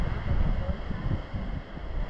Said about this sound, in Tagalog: Maraming lakas ng hangin.